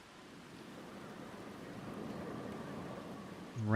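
Steady broadband hiss of rain falling across a tropical theme park in Planet Coaster 2, a soft continuous wash at moderate level with no talk, swelling slightly louder at the very end.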